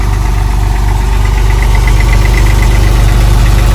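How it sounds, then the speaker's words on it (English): A Porsche 996 engine that has been sitting for a while runs loud and close with a fast, even metallic ticking riding over its steady mechanical drone. "You hear a little clicking noise at the very beginning, at the startup."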